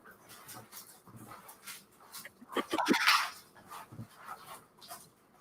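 A puppy whimpers and pants nearby, with soft yelps and a louder burst of whining in the middle before settling down again.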